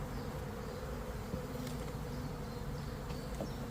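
A honey bee swarm settled in stored hive boxes and frames drones in a steady, dense buzz, many insects close by humming together without a break and no voices over them.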